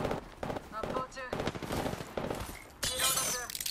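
Rapid bursts of gunfire in Apex Legends crackle and rattle loudly, with a voice talking over the shots and a harsher burst near the end.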